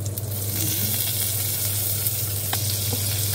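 Onion dropped into hot rendered pork oil gives a constant, dense frying hiss over a low steady hum, loud and close and without pause for the whole short stretch.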